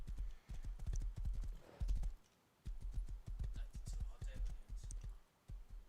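A horse's hooves clip-clop at a steady trotting rhythm in the survival video game Rust, mostly regular beats with a short pause partway through, moderately close and on their own.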